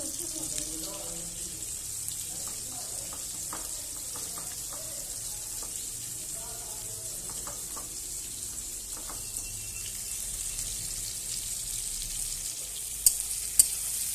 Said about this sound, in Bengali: তো পেঁয়াজটা লাল করে নেব ভালোভাবে। তো পেঁয়াজটা আমি হালকা করে ভেজে নিয়েছি